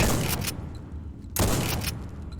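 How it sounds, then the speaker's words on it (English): Two heavy blasts from a grenade going off in Fallout 4 near a couple of radioactive spiders, each a loud broadband burst with a rumbling tail, about a second apart, with no talking. "We'll get ourselves a grenade maybe in a moment."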